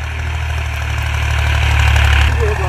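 A tractor engine runs steadily close up in a village, a loud continuous mid-pitched drone with throbbing knock and rising slightly near the end.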